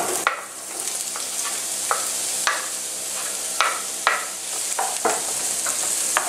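Onions cut in halves and quarters sizzle steadily in a heated pan for lasagna, with a broad constant fry hiss punctuated by several sharp scrapes and clacks of stirring.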